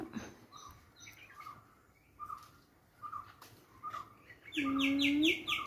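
Myna calls ring out intermittently against a quiet background, short whistled and chattering notes, ending with a louder burst of harsh, varied calls nearby.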